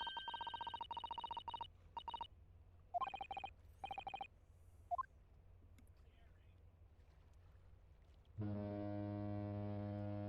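A ship's horn in The Great Ace Attorney video game, several short tonal honks in quick bursts followed by a longer, deep, sustained blast, loud and alone without talk.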